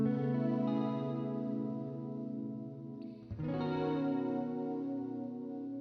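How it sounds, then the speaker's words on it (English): A sustained guitar chord swirling through a Haunted Labs Dark Aura modulation pedal's chorus-like effect, briefly dipping before a new chord rings out with shimmering, wavering tone. "actually customize this effect to create all these cool modulation things"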